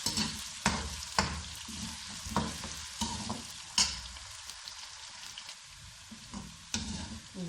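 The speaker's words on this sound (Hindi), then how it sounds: "और इनको हल्का सा फ्राई करके फिर निकाल लेते हैं।" Eggplant pieces lightly frying in oil, a soft steady sizzle broken by repeated spatula stirs and taps against the pan, fairly faint and with no voices.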